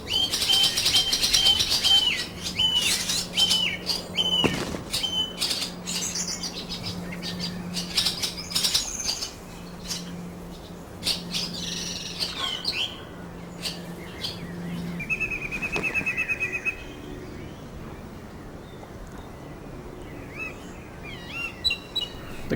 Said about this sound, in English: this blue tit is raising its family in a rusting post in a wrought iron boundary fence